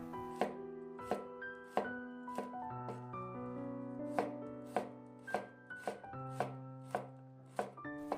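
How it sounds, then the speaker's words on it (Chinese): A kitchen knife slices a few garlic cloves thinly on a board, giving about a dozen crisp, evenly spaced chops, close and clear, with soft background music under them. "几瓣大蒜给它切成薄片"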